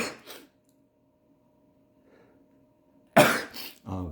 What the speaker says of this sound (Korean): 재채기가 나오네요